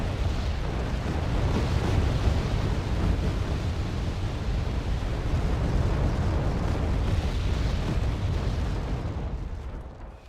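Bomb explosions from a Su-24 bombing run in the combat strategy game Wargame Red Dragon, a continuous loud rumbling roar of blasts and deep booms sustained across the whole stretch, fading slightly at the end.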